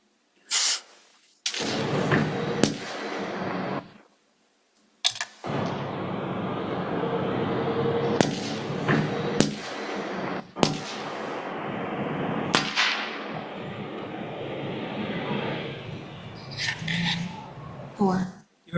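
Recorded gunshots are replayed in a courtroom as a run of sharp, separate bangs spread across the recording, mixed with muffled room noise and people talking.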